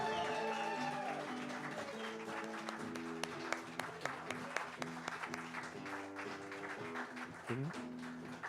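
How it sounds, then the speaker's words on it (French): An audience applauding guest poet Yvon Jean at a poetry reading event, moderate clapping running under a layer of music with sustained tones, some individual claps sharper near the middle. "tout le monde, ouais, on applaudit comme du monde"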